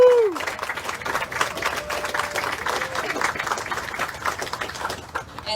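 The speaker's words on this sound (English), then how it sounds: "So please give a round of applause to the Atlanta Hawks" Audience applause at a statue unveiling ceremony honoring the Atlanta Hawks, a dense, even wash of clapping with crowd noise and a few cheers lasting the whole stretch.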